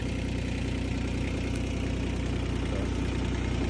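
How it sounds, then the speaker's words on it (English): A KU SCL 1000 mini skid steer engine idles steadily, a constant low, even rumble with a regular pulse, close and unbroken throughout. "And then you idle it back down and you can turn the hydraulics on just fine."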